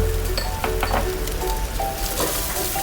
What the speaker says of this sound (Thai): ต่อไปก็นำเนื้อหมู 100 กรัมใส่ลงไปผัดให้สุกเลยนะคะ